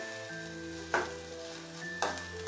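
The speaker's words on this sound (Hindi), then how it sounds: "Saute it for a while. चम्मच से चलाना मत छोड़िए।" Momo vegetable filling with grated ginger sizzles in a hot pan, a steady frying hiss broken by two scraping spoon stirs, with no talking.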